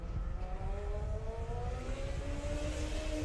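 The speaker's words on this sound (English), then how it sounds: "And you just heard Brown car 40 or 24 taking the course." A Formula SAE petrol race car runs the endurance course. Its engine note climbs steadily in pitch as it accelerates at a moderate distance, a continuous whine over a rumbling, noisy background.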